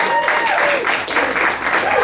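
A theatre audience at a live comedy quiz show claps in a dense, steady burst of applause that fills the whole moment, with a few voices mixed in the crowd noise.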